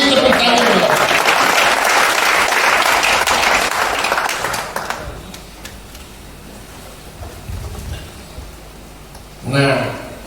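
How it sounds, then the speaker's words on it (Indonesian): Audience applause at a regional Christian fellowship convention session, a dense burst of clapping for about five seconds that then fades into quiet room noise, with a brief murmur near the end. "Beri tepuk tangan."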